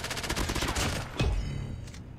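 Rapid MP7 submachine gun fire in Call of Duty Mobile: a dense, loud burst of automatic shots, then a heavier blast and a fading echoing tail.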